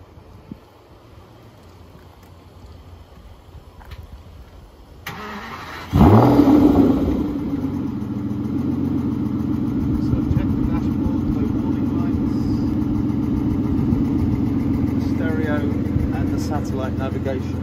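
A manual Aston Martin DBS V12 cranks and fires at about six seconds with a loud burst, then settles into a steady, rumbling idle that continues to the end, while a voice talks faintly beforehand.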